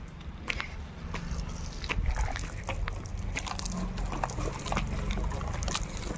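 Water runs continuously into containers at a house construction site, with steady trickling and sloshing mixed with scattered knocks and clatter nearby.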